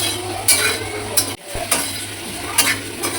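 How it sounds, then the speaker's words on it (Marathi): Onion dry-roasting in a pan with no oil, stirred in a steady scraping rhythm with a few sharper clicks of utensil against metal, close and moderately loud. "आई बघा कशी भाजते कांदा. विदाऊट तेल टाकता असा कांदा भाजायचा आहे"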